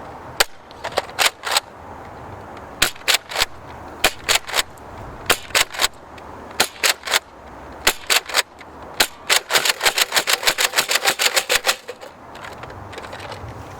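A Nerf Star Wars Stormtrooper Deluxe blaster fires red darts in sharp, close snaps, first as spaced single shots and then as a fast burst of rapid-fire pops near the end.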